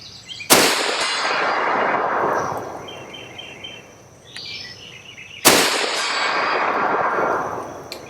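Two loud rifle shots from an Aero Precision rifle firing 150 grain ammunition crack about five seconds apart, each rolling into a long echo, with a faint metallic ring from the steel targets between them.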